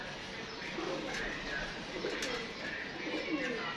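Pigeons coo softly on a sunny rooftop, a low repeated murmur drifting in and out over steady broadband outdoor noise.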